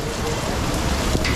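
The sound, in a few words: rain falling during floods in Karachi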